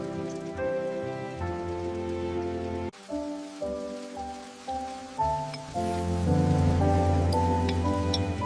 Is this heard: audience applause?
no